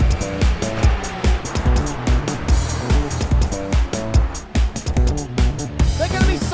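Porsche Carrera Cup race cars run side by side at about 135 mph, with engines revving in repeated pulses under loud music and an excited commentator.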